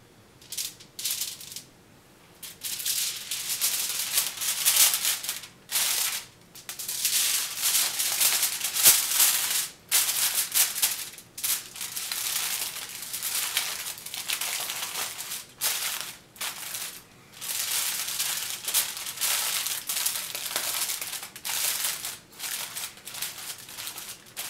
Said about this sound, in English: wrap them up in foil.